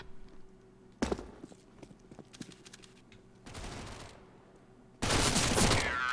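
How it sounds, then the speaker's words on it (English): Bursts of MAC-10 submachine gun fire in a CS:GO match on the Cache map, with scattered footsteps and clicks between two loud sustained volleys, the last one long and dense. "Get right with the last 2 frags of the Mac 10."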